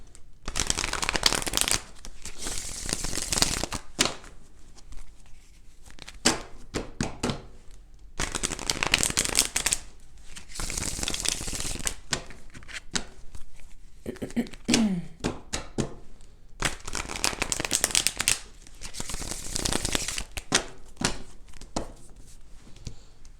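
Tarot cards are shuffled in repeated bursts of riffling and flicking, close and crisp, with pauses between rounds where someone talks quietly.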